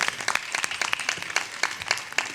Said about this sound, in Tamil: உங்கள் கரகோஷம் மூலமாக அதை